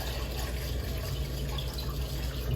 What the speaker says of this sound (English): And then we're just going to go ahead and add some water in.